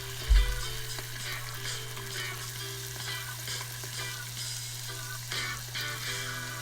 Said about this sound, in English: So lightly fry until this skin.